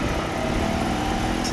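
A Citroën 2CV engine running during a drive, a steady droning motor hum with road rumble, close and continuous, with no talking.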